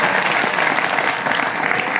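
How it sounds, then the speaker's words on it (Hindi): Loud, sustained audience applause fills the hall at a Gayatri Parivar youth event in Jharkhand, dense steady clapping throughout with no pauses. "आपके जोरदार तालियों के बीच"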